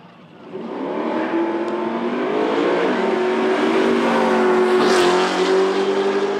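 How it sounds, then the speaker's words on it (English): Drag race cars launch side by side down Knoxville Dragway, a loud, sustained engine roar that rises in pitch through the gears and holds, heard from trackside without talk. "Todd hesitated a little bit in the left lane as Jace moves on to take the win in the right"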